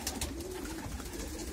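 Pigeons in a racing loft coo softly and steadily behind a low background hum, faint and at a short distance.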